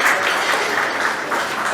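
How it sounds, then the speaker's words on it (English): A brief burst of steady group applause at a welcome event at an electronics company in India, even and fairly close with no talk over it. "Let's have a big round of applause everyone."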